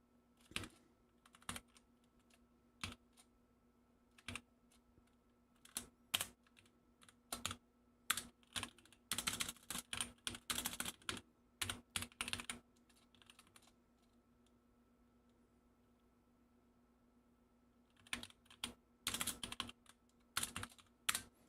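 Keys clatter on a computer keyboard in quick bursts broken by pauses, fairly quiet, over a faint steady hum.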